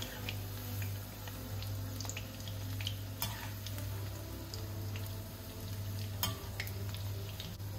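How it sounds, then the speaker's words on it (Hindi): Onion pakoras frying in hot oil, a dense, steady sizzle and crackle heard up close, with occasional light clinks as they are stirred, and no talking. "गोल्डन ब्राउन होने तक तलना है,"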